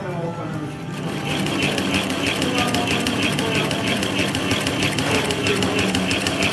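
A double needle Imperial box pleating machine sewing fabric, a rapid rhythmic mechanical clatter that ramps up from a slow start to a steady high-speed chatter, close and loud, with a person talking over it.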